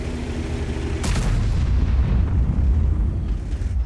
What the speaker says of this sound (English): And that sounded like a big arty shell